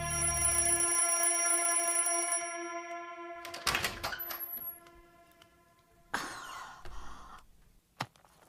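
An alarm clock rings with a bright, sustained metallic tone for about two seconds, then cuts off, followed by scattered clanks and thuds in a quiet room.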